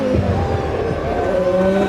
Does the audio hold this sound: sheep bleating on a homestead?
no